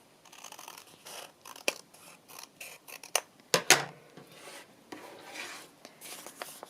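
Scissors snipping across the top of a paper pocket page for a scrapbook layout, a close run of sharp cuts and rasps with uneven pauses and a few louder snips, no voices.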